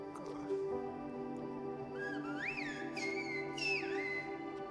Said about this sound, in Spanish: Silba una frase,